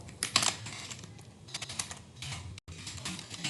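Keys on a computer keyboard clatter in quick, close bursts of typing with short pauses, fairly quiet and with no voices over them.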